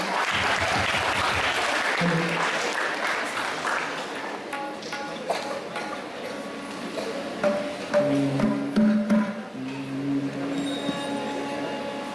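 Loud, sustained applause fills a school hall at a Kannada Rajyotsava celebration as a 9th grade orchestra is welcomed, with dense clapping throughout and some tonal sounds rising toward the end.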